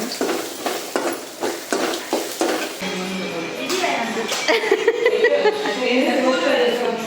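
Food is stirred and sautéed in a kadai on a kitchen stove, with a spoon scraping and clinking against the pan under a soft sizzle while someone talks nearby.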